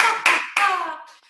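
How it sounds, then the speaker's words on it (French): A group claps hands together at the close of a facial qi-gong massage session, with two sharp bursts of applause close by and the clapping tapering off quickly. "à la fin de chaque séance, on va dire 1, 2, 3 et on va applaudir."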